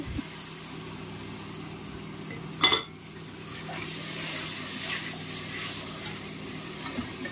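Chopped tomatoes sizzle steadily in a hot pan for mutton biryani, with a sudden clatter as something is stirred or added, then the frying continues.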